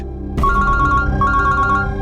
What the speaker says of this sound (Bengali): আমি একটু ফোনটা ধরি